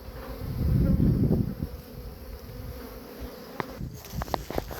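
A honeybee swarm clustered on a tree buzzes loudly and closely at first, then thins to a steadier hum with a few sharp clicks and knocks toward the end.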